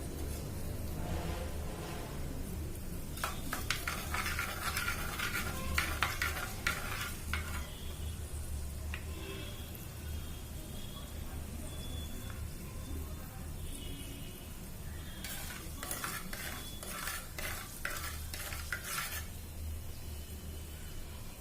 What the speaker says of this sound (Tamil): வெந்தயம் லைட்டா ஒன்று வறுத்து வர வரைக்கும் நம்ம இப்படி கிளறிட்டு இருக்கணும்.